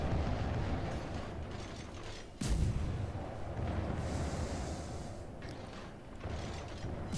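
Naval guns firing in World of Warships, a HMS Cossack destroyer battle, with a heavy blast followed by mechanical whirring and ratcheting turret sounds over a rumbling engine background.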